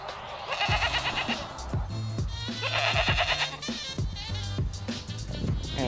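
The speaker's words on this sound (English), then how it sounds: "Hola, goat, you came back." A goat on a permaculture farm bleats repeatedly, close and loud, in several wavering calls with short pauses between them.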